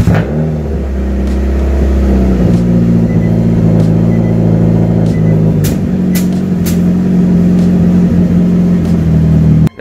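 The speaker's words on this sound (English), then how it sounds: "So cold start on Midori." A car's engine cold starting inside a garage: a sharp crank and catch, then a loud, steady idle that settles slightly lower and runs on for several seconds.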